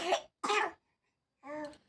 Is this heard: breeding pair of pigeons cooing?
no